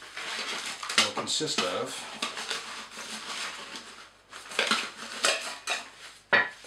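Metal camping cook kit parts, including a Snow Peak 700 pot and a sweets-tin lid, rattle and clink together as they are handled up close, with a person talking over the handling.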